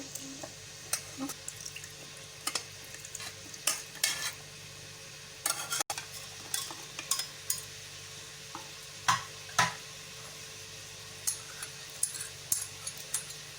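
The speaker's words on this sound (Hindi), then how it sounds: "और साइड में जो है हम अपना ये गोश्त को भूनते रहेंगे" Mutton frying in a pan for white korma, a steady close sizzle broken by repeated scraping clinks of a spoon stirring the meat, with no one talking.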